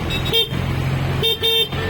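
Two short electronic horn beeps from an Ola S1X electric scooter, the second a quick double toot, sounding close by over a steady background hum.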